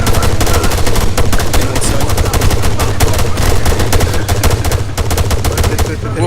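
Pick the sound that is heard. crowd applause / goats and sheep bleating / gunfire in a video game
gunfire in a video game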